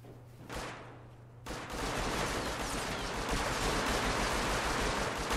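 Heavy gunfire erupts in a Rust raid across hilly, rocky terrain. After a brief quieter lead-in, dense rapid shots and bursts pile up into a continuous, loud barrage lasting several seconds.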